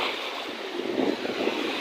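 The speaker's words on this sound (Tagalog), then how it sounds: "Taas na po yung alon." High ocean waves surge and wash along a shore in a continuous broad rushing roar, loud and close, with a swelling crash in the middle.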